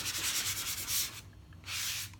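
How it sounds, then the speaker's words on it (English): A sanding block rubs lightly back and forth over a painted laser-cut wooden pencil blank, giving two close, steady scratchy strokes separated by a short pause, with no talking. "you take your sanding block and you just kind of like"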